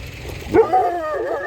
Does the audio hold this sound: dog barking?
yes